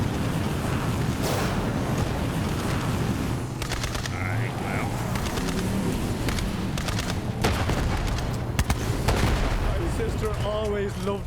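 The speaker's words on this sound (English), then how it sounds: "Loved a good explosion." Booming explosions and gunfire rumble through a Borderlands 3 firefight on PC, a dense, loud barrage of blasts and crackling impacts filling the whole stretch, with a few sharper bursts near the end.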